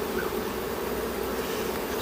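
Honeybees from a small, weak swarm colony drone in a steady, dense buzz close by at the open hive while frames are handled, continuous with no voices.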